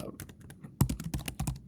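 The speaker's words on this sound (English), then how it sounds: "I'm going to type in the symbol FBNDX" Typing on a computer keyboard, heard close up: a quick run of crisp, irregular key clicks with a couple of louder taps, and no voices.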